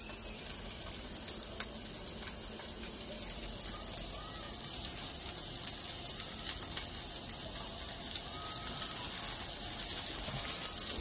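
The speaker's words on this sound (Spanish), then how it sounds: "Por cada lado vamos a darle de 5 a 6 minutos para que cocine bien y queden bien doraditos" Crab cakes sizzle steadily in a frying pan, a constant close crackle and hiss of hot oil running the whole time with no talking over it.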